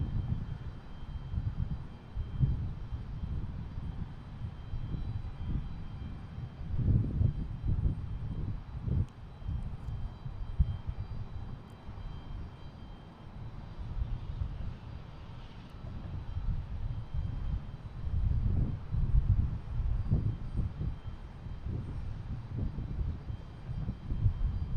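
Airbus A220 jet on flight 2251 at Boston Logan International Airport, a steady broad engine roar with low rumbling surges, moderately loud and continuous for the whole span.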